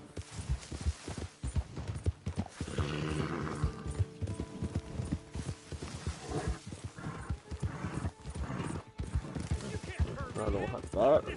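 Horse hooves clip-clopping and a whinny in the video game Red Dead Redemption 2, uneven footfalls with a brief neigh, heard under someone talking throughout.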